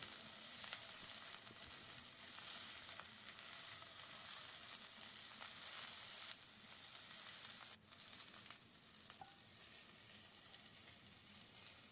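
Steady, close sizzling of cauliflower frying in hot mustard oil, a continuous crackle with a brief stir-like rustle near the end; no talking.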